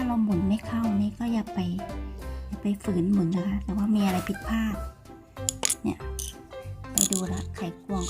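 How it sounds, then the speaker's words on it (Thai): Screwdriver tightening screws while a bedside cabinet is assembled, giving ratcheting, clinking mechanical turns that repeat through the clip under a continuous voice talking. "พอใส่ครบแล้วเราก็จะมาหมุนใช้ไขควงหมุนให้แน่น"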